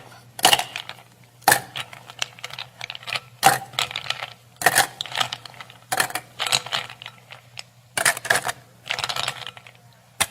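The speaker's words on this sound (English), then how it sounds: "now I would like you to fill that glass with ice cubes" Ice cubes drop into a glass one after another, about ten sharp, hard clinks and clatters in an irregular rhythm, close and loud against a quiet background.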